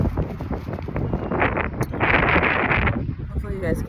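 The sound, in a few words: wind blowing into microphone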